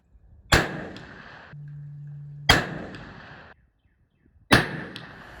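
A muzzleloader fired with four FireStar pellets behind a 300-grain bullet: three sharp, loud reports about two seconds apart, each ringing off and fading quickly, with a steady low hum between the first two.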